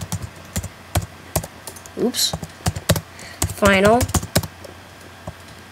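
Fast clicking keystrokes on a computer keyboard while plugin code is typed, in quick irregular bursts close to the mic. A voice speaks briefly in between.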